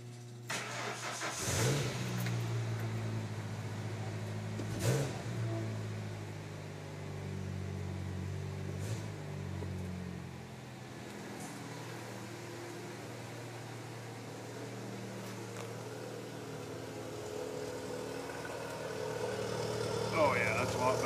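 A car engine runs steadily at idle through an upgraded exhaust tip, a low rumble that holds for the whole stretch, with a few sharp clunks and bumps early on and a voice talking over it.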